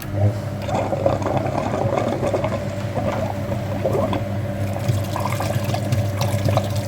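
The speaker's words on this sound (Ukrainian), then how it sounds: "Підключились, включаю насос." A pump runs steadily while flushing the heater radiator of a Skoda Fabia 1.2, with a continuous hum and liquid rushing and gurgling through the hoses close by, no talking.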